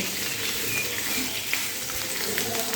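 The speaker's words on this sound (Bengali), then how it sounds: "এখন এই আলুগুলো ফোড়নের সঙ্গে একটু ভালো করে ভেজে নিতে হবে" Boiled potatoes fry in oil with whole spices, giving a dense, even sizzle that stays close and constant. There is no talk.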